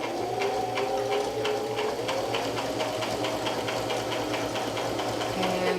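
A sewing machine stitches a continuous seam on a rag quilt, running steadily for the whole stretch with an even, rapid mechanical chatter and a low motor drone, close and alone without talk.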